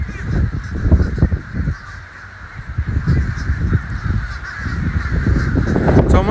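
A large flock of crows and blackbirds caws constantly before a heavy rainstorm in Sarasota, Florida, a dense overlapping chorus of harsh calls near and far, loud and unbroken.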